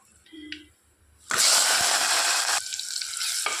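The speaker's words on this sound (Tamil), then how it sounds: "ஒரு 1/4 ஸ்பூன் கடுகு நல்லா பொரிஞ்சு வரணும்" Mustard seeds spluttering and sizzling in hot oil for pepper rasam, a loud, dense crackling burst that starts abruptly and keeps up steadily, easing slightly toward the end.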